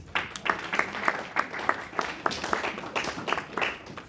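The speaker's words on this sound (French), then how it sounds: "Nous acclamons le Seigneur." Congregation applauding during a church sermon, a steady mid-distance wash of many hands clapping with rhythmic accents roughly every third of a second, like clapping along in worship, with no talk over it.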